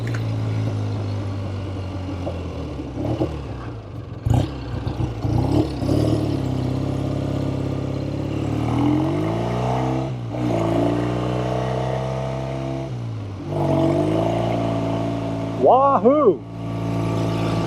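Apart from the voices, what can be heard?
1970 Triumph TR6 Tiger motorcycle engine while riding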